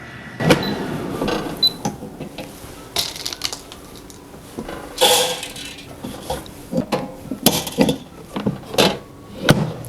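A handful of popcorn kernels rattle and clatter into the basket of a deluxe air fryer in scattered bursts, fairly close by, with no talk.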